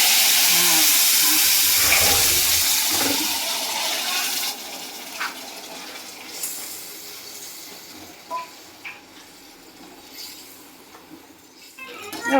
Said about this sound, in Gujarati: હવે આપણે નાખીએ છીએ પાણી, ગોળવાળું પાણી